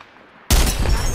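A single charged weapon blast from a shooter game erupts abruptly after near silence, loud and booming with a trailing rumble.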